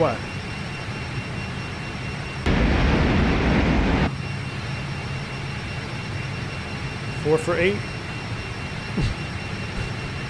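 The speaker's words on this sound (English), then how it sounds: "I gotta turn the airplane down, guys. I'm sorry. It's just too. I can't hear myself think." Fokker 28 jet engines roar as a steady, loud whine in a flight simulator game, with a louder broadband surge partway through and someone talking over the engine noise.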